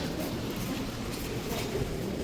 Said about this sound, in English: Here's our metro station